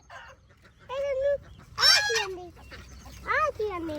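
Ducks calling on a farm where wheat is being harvested: a few loud, nasal honking calls in short separate bursts, with quieter stretches between them.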